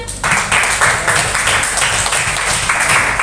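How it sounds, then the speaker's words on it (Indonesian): A short burst of group applause, many hands clapping together at a steady level, fairly loud and close throughout. "tepuk tangan"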